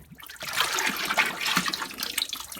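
A ceramic lemon pitcher is dipped into a bucket of liquid glaze and lifted out, giving a steady sloshing, splashing wash of liquid close by for a few seconds.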